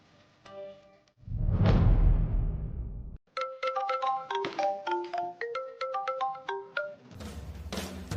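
Mobile phone ringing while a cellphone is being called, a short tonal chime and a swelling whoosh followed by a bright melodic ringtone of quick repeated notes, clear and close with no talk over it.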